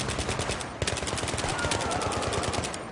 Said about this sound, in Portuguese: Vendo que eu atirei em policiais aqui